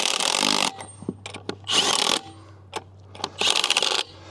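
Milwaukee M12 stubby impact gun spinning lug nuts onto a Sprinter van wheel, in three loud sustained bursts separated by short clinks and rattles of handling, with a steady low hum between bursts.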